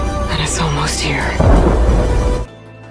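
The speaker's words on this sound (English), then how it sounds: "You always said a storm was coming." Thunder rumbles in a video game cutscene from Horizon Forbidden West as a storm arrives, with broad deep roaring rising to a heavier rolling peak before cutting off abruptly, and a voice briefly heard at the start.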